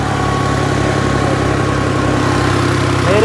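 A New Holland 3630 turbo tractor engine idles with a steady, close, low mechanical throb that stays even until a slight rise at the very end.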